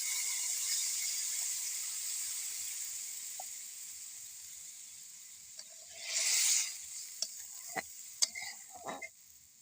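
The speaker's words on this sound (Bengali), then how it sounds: "এখন আমি ঝোলটা অ্যাড করে দিচ্ছি।" Soybean curry sizzles in a pan as gravy water goes in, giving a steady frying hiss, then a loud sputtering burst partway through, followed by scattered scrapes and clinks of stirring.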